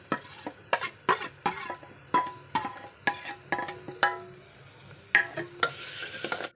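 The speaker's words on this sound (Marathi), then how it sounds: "हे जे आपण वाटण ठेवलेलं ते छान फोडणीमध्ये परतून" Ground masala paste being sautéed in hot tempering for Malvani brinjal bharit, with a soft sizzle under repeated sharp scrapes and knocks of a spoon stirring against the pan, close and irregular.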